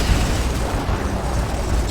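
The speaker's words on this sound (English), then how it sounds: "Tiberium explosion detected." A Tiberium explosion in the real-time strategy game Command & Conquer 3: Kane's Wrath gives a loud, dense, rumbling roar that runs steadily for the whole two seconds, with no voices over it.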